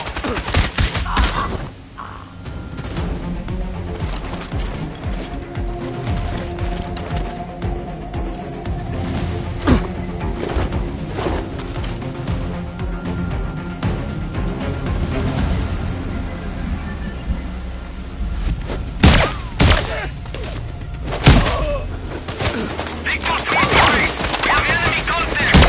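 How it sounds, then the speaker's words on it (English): Bursts of rapid gunfire crackle over a dense, noisy soundscape in the game Sniper Ghost Warrior Contracts 2, with sharp cracks scattered throughout and a few heavier shots near the end. "Gunshots here!"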